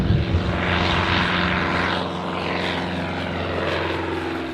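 A propeller airplane in flight, its engine droning steadily and loud with a broad roar and rhythmic prop buzz throughout, no voices.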